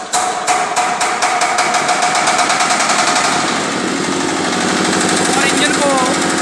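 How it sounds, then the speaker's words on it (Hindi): A small engine with a decompressor lever is started for a compression test and runs loud and close with a rapid, hammering mechanical clatter that settles into a steady roar. "और इंजन को लगभग 10 या 15 मिनट तक जो है वो स्टार्ट करना है।"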